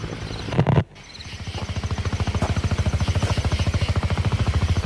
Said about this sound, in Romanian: Vin cu elicoptere care cred că sunt Black Hawks